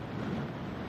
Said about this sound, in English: A really massive gust just coming up right now.